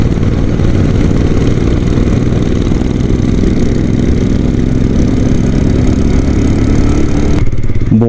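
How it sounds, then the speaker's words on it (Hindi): Royal Enfield Scram 411 motorcycle cruising in second gear on a bumpy road with stones and sand, its exhaust giving a steady, loud, continuous engine drone that lasts throughout without pause. "और साउंड एग्जॉस्ट का पीछे तक आ रहा है।"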